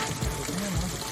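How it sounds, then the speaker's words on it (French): Fresh water runs from a small tap aboard a sailboat off the Antarctic Peninsula, a steady close hiss and splash without pause. "C'est un joli petit robinet"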